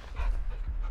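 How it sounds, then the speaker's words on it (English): A caged dog in the Call of Duty MW2 video game panting in quick, breathy huffs, close and moderately loud, over a low background rumble. "Do you see the caged dog?"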